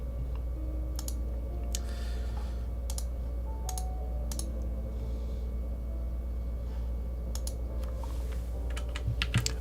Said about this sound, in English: You're just gonna hear me clicking around for a minute here.